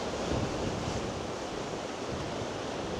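Sea surging onto the rocks at Portrush, a steady, dense roar of surf with wind buffeting the microphone and no single distinct crash standing out.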